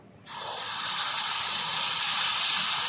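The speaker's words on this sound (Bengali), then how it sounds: "এই তেলে আমি ছেড়ে দেবো এবার কালো জিরে" Nigella seeds (kalo jeere) drop into hot oil for tempering a Bengali mustard fish curry, setting off a sudden loud, steady sizzling hiss that starts a moment in and holds strong to the end.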